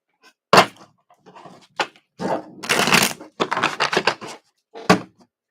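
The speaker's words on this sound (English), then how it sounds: "I'm going to shuffle both these real quick." A deck of tarot cards is shuffled by hand in a series of crisp riffling and slapping bursts, close and fairly loud, separated by short pauses.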